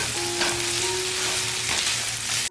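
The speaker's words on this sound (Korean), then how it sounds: "방울토마토를 모두 넣고 중강불에서 약" Cherry tomatoes with green onion and minced garlic stir-fry over medium-high heat in a pan, a steady close sizzle with soft scraping and stirring throughout, no voices.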